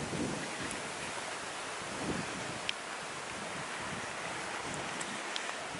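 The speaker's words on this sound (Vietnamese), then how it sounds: "Ai ngờ gió thổi lạnh quá." Cold wind blows steadily outdoors on a rainy, cloudy day in California, a broad, even rushing hiss throughout with a few faint ticks and bumps and no talking.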